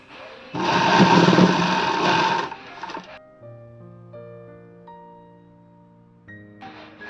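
Sewing machine stitching elastic onto fabric, a dense steady motor whir running for about two and a half seconds, then stopping as quieter tonal sounds follow, with the stitching briefly resuming at the end.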